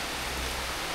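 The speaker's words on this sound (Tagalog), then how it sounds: "Ang lakas ng ulan, no?" Heavy rain pours down on a camper jeepney setting, a dense, even hiss of rainfall filling the whole moment without any voices.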